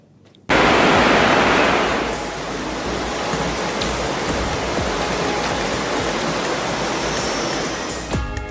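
Heavy rain pours over floodwater in Abidjan, Ivory Coast, a loud, dense, hissing downpour that begins abruptly and holds steady throughout, with water splashing and rushing underneath.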